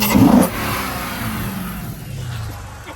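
Chrysler 300 SRT8 V8 on its stock exhaust, with one sharp, loud rev up close that settles into a lingering rumble as the engine winds down.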